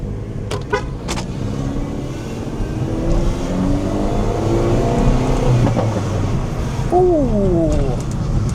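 A Mini Cooper S with a modified intake pulls away and accelerates, the engine note rising through first gear, dipping at the shift into second and climbing again, loud and close from inside the car.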